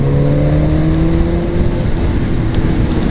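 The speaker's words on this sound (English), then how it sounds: "I'll crack the throttle open just a little bit" Motorcycle engine in fourth gear at about 52 mph, loud and steady, with harmonic tones that climb as the throttle is opened slightly, over continuous road and wind rumble and with no talking.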